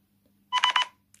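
Phone ringing, set off by the find-phone feature of an M4 smart band: one short burst of electronic ringtone pulses over a quiet background, with no voices.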